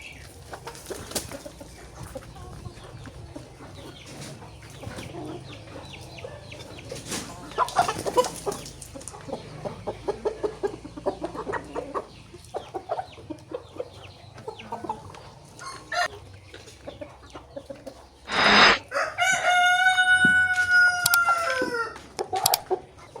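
A rooster with a hemorrhoid-like vent condition clucks intermittently, then lets out a loud, close crow near the end, with faint background noise in between.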